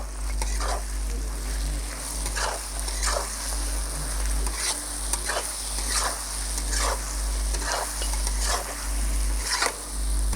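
Wild boar meat with red chilli powder and spices stirred in a frying pan: a continuous sizzle under regular, repeated scraping strokes of a spoon, roughly one every second, close and steady, with a low hum beneath.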